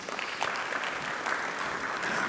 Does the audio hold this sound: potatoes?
no